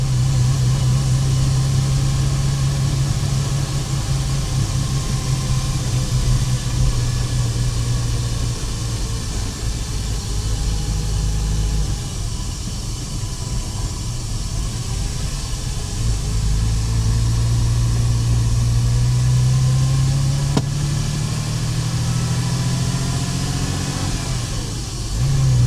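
Porsche engine pulling hard in third gear, a steady loud in-car drone whose pitch rises through the pull, dips briefly midway, then climbs again, with no talking.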